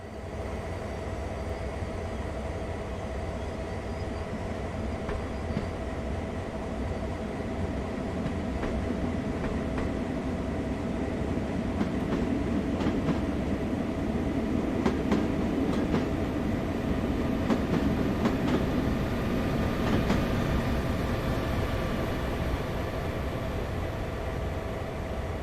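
Train running on rails in the video game Train Sim World 2, a continuous rumble with rhythmic wheel clatter swelling midway, moderately loud and steady, with no talk.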